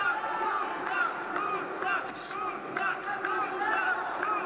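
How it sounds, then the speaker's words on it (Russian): Arena crowd of fight fans chanting the name Ruslan during a pause in a mixed martial arts bout, a dense, steady roar of many voices with rhythmic chant pulses repeating throughout, loud and continuous. "Скандируют болельщики"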